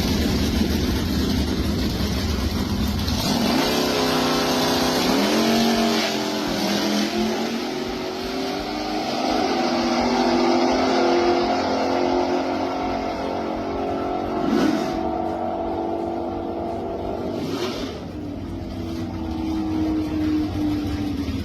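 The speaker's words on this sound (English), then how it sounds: "this 62 Nova is powered by a 406 small block with 13-to-1 compression and a roller cam, designed to run on race fuel" A 1962 Chevrolet Chevy II Nova gasser with a 406 small block V8, high compression and roller cam, running loud and close, revving and shifting pitch through rising and falling sweeps, with no talking.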